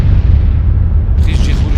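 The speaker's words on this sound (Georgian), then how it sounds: "დაახლოებით 10 წუთის შემდეგ აფეთქების ხმა გაისმა." A staged explosion effect for a documentary reenactment of a bombing: a loud, deep, sustained rumbling boom that fills the moment, with a brief brighter crackling burst near the end.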